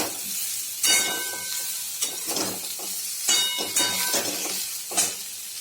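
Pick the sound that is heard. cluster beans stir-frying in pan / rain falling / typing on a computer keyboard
cluster beans stir-frying in pan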